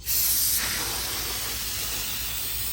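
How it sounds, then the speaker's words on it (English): A steady aerosol brake cleaner spray hisses loudly and continuously, close up, with a strong burst at the start settling into an even stream, on a Honda Pioneer/Talon valve body. "Spray her off with some brake clean."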